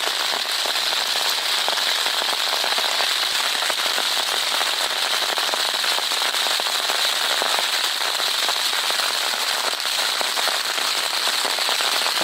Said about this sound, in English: rain's just coming in fairly when you're up in that